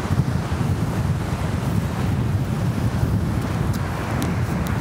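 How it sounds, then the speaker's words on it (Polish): Steady rushing roar of a turbulent river in Georgia mixed with wind buffeting the microphone, continuous and loud throughout with no voices. "rzeka dzisiaj wzburzona"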